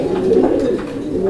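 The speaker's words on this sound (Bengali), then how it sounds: "সব কবুতরই ডাকে" Pigeons cooing in a loft of fancy breeding birds, a steady low throaty warble that swells and repeats close by, with no talk over it.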